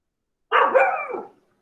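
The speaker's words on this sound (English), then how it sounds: "those are my dogs barking. They're very loud." A dog indoors gives a single fairly faint bark, lasting just under a second, with silence around it.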